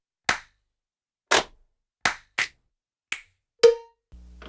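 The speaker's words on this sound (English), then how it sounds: "Group claps, single claps." Single hand-clap samples from the Superior Drummer 3 drum software sound one at a time in an irregular sequence of six sharp, dry claps. Each clap is loud and close, with no talk.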